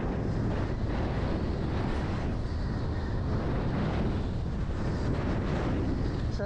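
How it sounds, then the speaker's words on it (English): Strong wind gusts coming over a mountain roar and buffet the microphone continuously out on open water during a wing foil race off Hawaii, with a dense, rushing, unbroken blast that swells and eases slightly. "Wind's coming over that mountain and all kinds of wind shifts, lulls and gusts."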